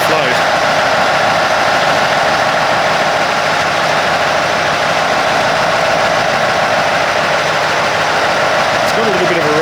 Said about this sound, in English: I've just lifted the rev slightly with the hand throttle just to sort of take that hunting and surging out of it